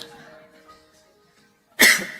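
A single sharp, loud cough from an older person bursts out near the end after a quiet stretch with faint background hum.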